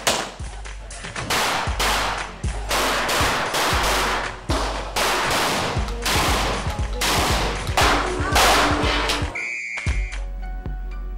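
Gunfire at the QCPD police firing range in Camp Karingal, with loud close shots fired in rapid strings and bursts, ringing and echoing, and a brief electronic tone near the end.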